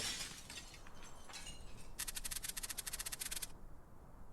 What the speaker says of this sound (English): It sounded like shattering glass